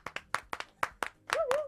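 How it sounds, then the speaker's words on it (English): A small studio audience gives brief applause, about eight separate claps close together, then a short overlapping burst as a voice briefly sounds. "a round of applause in the studio"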